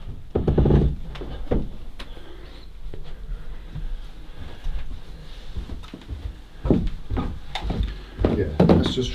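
Creaky wooden stairs in an old house thump and groan under footsteps as the bottom step is trodden on, several heavy knocks spread unevenly through the stretch, with faint voices murmuring between them.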